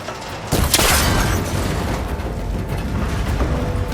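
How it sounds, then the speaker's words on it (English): A cable connector bursts apart under a shot in Horizon Forbidden West, one sharp loud blast followed by a long rumbling tail that fades slowly. "That connector's holding the cables together. It should break if I shoot it."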